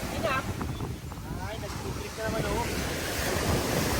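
Sea waves rolling in at high tide on a beach in Bohol, a steady broadband wash with wind buffeting the microphone throughout, close and fairly loud, with faint voices in the background.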